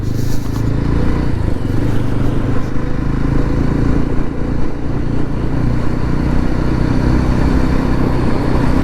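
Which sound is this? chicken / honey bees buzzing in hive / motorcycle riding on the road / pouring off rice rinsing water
motorcycle riding on the road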